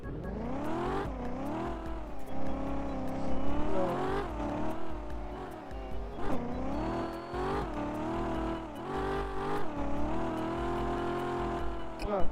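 A car in a Roblox game drives along with a continuous loud engine drone that rises and falls as it revs, pitch sweeping up and down repeatedly over a long stretch.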